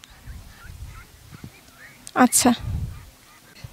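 Male ducks, about 90 days old, on a duck farm in a haor wetland, giving a short burst of loud honking quacks close by, with people talking briefly.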